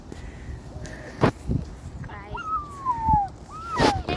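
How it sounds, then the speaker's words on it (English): A puppy whimpers in a few short, high, rising and falling cries, fairly close, between footsteps and light handling noise on an outdoor walk near water; a person is also heard speaking briefly. "Puppy's saying goodbye."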